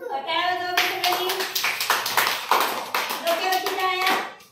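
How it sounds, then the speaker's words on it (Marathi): A group of children in an anganwadi classroom clap their hands together in quick, dense bursts, loud and close, with children's voices chattering over the clapping. "टाळ्या वाजवा सगळ्यांनी"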